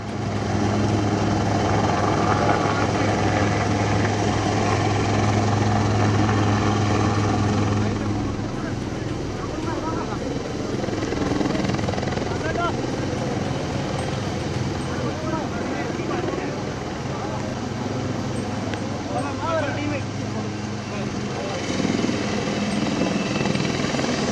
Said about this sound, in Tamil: வான்வழி மீட்பு பணிகளுக்காக சூலூர் விமானப்படை தளத்திலிருந்து 2 ஹெலிகாப்டர்கள் வரவழைக்கப்பட்டுள்ளன